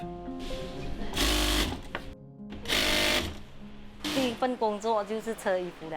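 A sewing machine runs in two short loud bursts with a pause between, followed by a person speaking.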